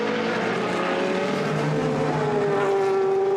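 GT race cars including a BMW Z4, Corvette and Ferrari racing at Misano, a loud continuous engine roar with a falling pitch as they sweep past toward the final corner.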